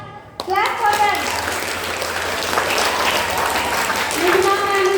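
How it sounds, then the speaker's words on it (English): Audience applause at a school event for staff members, a dense burst of clapping from many hands that starts abruptly and holds steady throughout, with a voice and faint talk under it. "Vinay sir, Nilima ma'am, clap for them."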